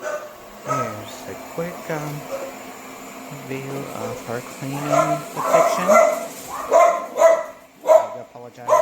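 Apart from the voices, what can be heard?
dogs barking at robot vacuum cleaner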